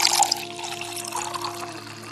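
Drinking water is poured out for a beggar, a close trickling and splashing stream that fades gradually, with a steady humming tone running underneath.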